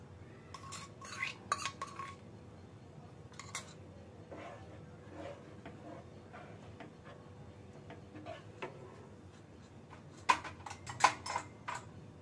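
A spoon stirs khoa into semiya payasam in a vessel. Sparse metallic clinks and scrapes come in short clusters over a quiet background, with a louder burst near the end.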